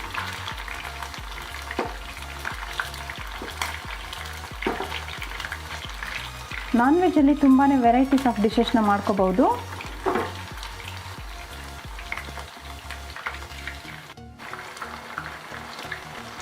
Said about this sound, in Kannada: ಒಂದು 5 ನಿಮಿಷ ಇದನ್ನು ನಾವು ಎಣ್ಣೆಯಲ್ಲಿ ಈ ರೀತಿ ಫ್ರೈ ಮಾಡಿಕೊಂಡು ತೆಗೆದಿಟ್ಕೊಂಡು